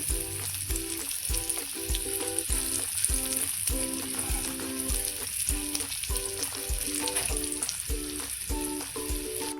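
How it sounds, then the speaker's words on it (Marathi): Finely chopped onion sizzles in a spiced oil tempering for a cabbage dish, a constant bright hiss heard beneath rhythmic background music with regular beats. "आपले छोटा कांदा कापलेला बारीक टाकायचा आहे त्याच्यामध्ये"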